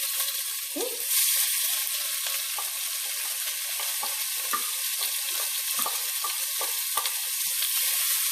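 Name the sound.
onions and garlic sizzling in a pan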